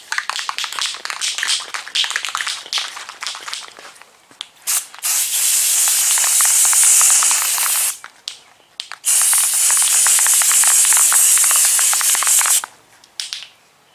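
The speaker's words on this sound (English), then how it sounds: "I'm going to spray it on there before I put my second coat on." Bursts of loud, steady spraying hiss from a spray gun applying clear bed liner coating inside a truck, several long passes separated by short pauses, with some scraping and clicking early on.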